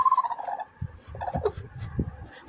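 A frightened country hen clucks and squawks close by, a few sharp, uneven calls with short pauses, with light rustling in between.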